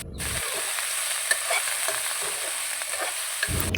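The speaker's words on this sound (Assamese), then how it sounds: "ৰখা বেঙেনাকেইডোখৰ দি অলপ সময় ভাজি লৈছোঁ।" Brinjal pieces fry in oil in a pan with a ginger, garlic and chilli paste, giving a close, continuous sizzle broken by occasional stirring scrapes, with no talking.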